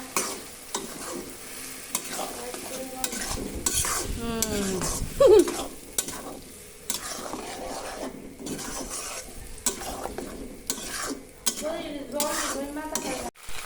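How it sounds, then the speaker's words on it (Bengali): Mutton braising in a pan with ground onion, ginger, chili, garlic and whole spices such as cloves, cardamom, cinnamon, bay leaf and dried red chili: continuous close sizzling under repeated stirring scrapes and metal clinks, with a voice speaking now and then. "তো বন্ধুরা, এখানে আমার মাংস কষানো হয়ে গেল, মাটন।"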